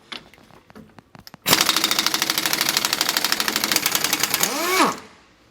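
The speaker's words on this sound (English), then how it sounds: "we need to loosen up the two U-bolts on the leaf springs here" A 1-inch impact wrench with a 1 1/8 socket hammers loose the tightly torqued leaf spring U-bolts on a Class A motorhome: a few short taps, then a loud, rapid rattling burst of several seconds that winds down.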